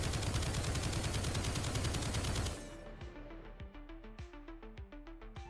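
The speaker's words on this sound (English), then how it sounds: "Just being able to dump ammo into this dude." Rapid bursts of video game gunfire, loud and dense for about two and a half seconds, then sparser scattered shots and in-game effects continuing at lower level.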